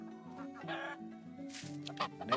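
Chickens in a laying coop cluck repeatedly at close range, a busy overlapping run of short calls that rises near the end.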